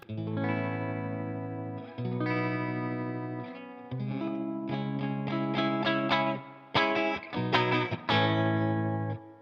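Electric guitar chords ring out through a Walrus Audio Fundamental Series reverb pedal set with a heavy mix and slight warble, giving a shimmering, slightly warbling wash over several strummed phrases.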